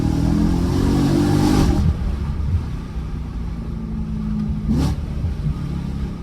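A BMW M3 E92 accelerates on the road, the engine note climbing steadily before easing off with a gear change, then pulling again, loud and continuous from inside the car.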